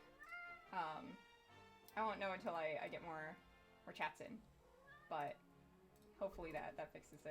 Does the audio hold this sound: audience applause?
no